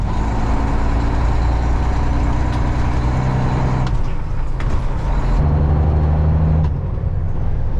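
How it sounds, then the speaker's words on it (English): A farm truck with a Super 10 transmission drives along with a loud, steady engine drone. The pitch drops and shifts twice as it changes gear, with road rumble underneath and no talking. "This truck's kind of nice. It's easy to drive because it's a Super 10 transmission"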